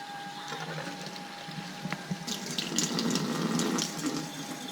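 Strong alkaline Kangen water at pH 11.5 runs from a Kangen ionizer tap onto produce for soaking, a steady splashing stream that grows louder partway through, with no speech.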